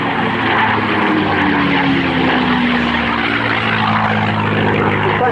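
A P-51 Mustang with an Allison engine roars overhead at an RAF Cosford airshow, a loud steady propeller drone whose pitch slides down as it passes, with no voices.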